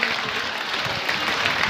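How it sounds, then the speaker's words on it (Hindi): Audience at a rural Olympic games block-level opening event applauding to welcome a state minister, dense steady clapping throughout. "जोरदार तालियों के साथ स्वागत करें।"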